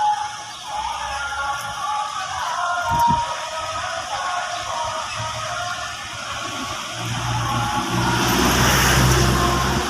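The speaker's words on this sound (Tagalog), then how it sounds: "kaya ipo-forward niya ng konti yung sasakyan" A manual transmission car creeps slowly forward while parking, giving a steady low engine drone with outdoor road noise that swells slightly toward the end.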